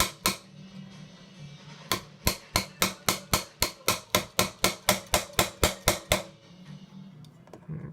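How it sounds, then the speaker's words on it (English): A rapid series of sharp metallic taps as a pin is hammered into an SCR MP5 CO2 magazine, about fifteen strikes in a steady rhythm, close up and loud with no talking. "Kind of gently tap it in like so."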